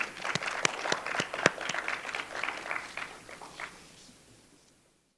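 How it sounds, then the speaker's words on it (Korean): Scattered applause from a small group at a university faculty assembly, a few sharp claps standing out, fading away to silence over several seconds. "큰 박수로 맞이해 주시기 바랍니다"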